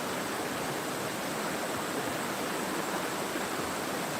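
A mountain valley stream at Ssanggok Valley in Goesan, North Chungcheong, rushes in a dense, continuous broadband wash of flowing water, loud and steady throughout with no talking.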